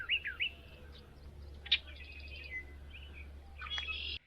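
Several wild birds call from a tree outdoors in the sun, bright chirps and short tweeting phrases scattered across the moment, fairly close over a steady low hum.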